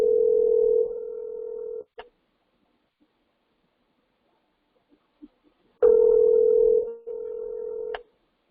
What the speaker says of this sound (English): And hopefully they pick the phone up.